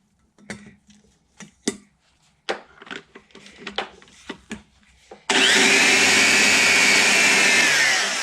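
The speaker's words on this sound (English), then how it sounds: "You can see we're starting to cut a new sheet in here." A lathe cuts metal to make a new valve for a Stickney 7HP stationary hit-and-miss engine: several sharp knocks and taps from the tool, then a loud, steady, continuous whir starting about two thirds of the way through.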